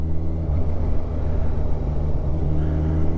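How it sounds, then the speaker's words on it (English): A 2020–2021 Kawasaki Ninja 1000SX freewheels in a high gear with a steady, loud, close-up rumble of engine and wind that holds constant throughout, with no voices. "Let's put it in a higher gear and let's just freewheel down here."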